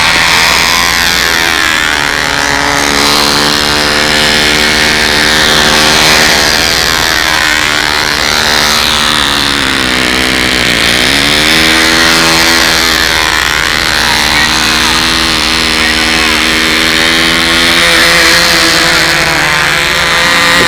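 A model airplane engine fitted with a muffler runs at a windy 2001 fly-in, giving a loud, close, continuous buzzing drone whose pitch wavers slightly as the engine surges.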